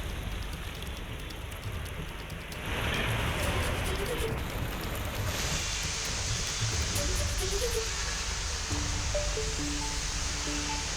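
Heavy monsoon rain pours down in Delhi's Madangir area as a steady, dense hiss of water on flooded streets, growing louder partway through, with no voices.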